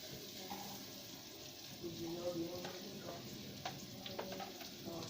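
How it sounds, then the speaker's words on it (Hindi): Chopped onion fries in a pan for an omelette, giving a low, even sizzle with light scraping and clicks from stirring, fairly quiet and close. "इसको प्याज को थोड़ा सा लाइटली ब्राउन करेंगे"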